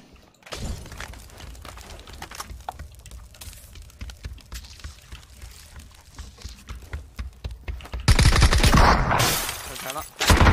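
Rapid bursts of gunfire in a shooting video game, dense cracking volleys running throughout and growing louder and heavier near the end, with no one talking.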